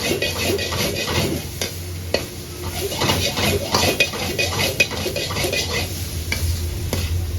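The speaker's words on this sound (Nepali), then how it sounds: "मैले यसमा अब बल्ल क्याप्सिकम स्लाइस र टमाटर स्लाइस राख्नेछु र मजाले एकछिन चलाउनेछु" Capsicum and tomato slices are stirred into dry goat meat frying in a pan, with a steady sizzle under repeated scraping and clinking strokes of a spoon against metal.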